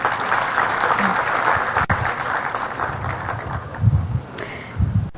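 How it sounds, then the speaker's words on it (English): Crowd applause for a member of parliament at an annual seminar, a full burst of clapping that thins toward the end while a voice starts speaking over it. "Round of applause for him."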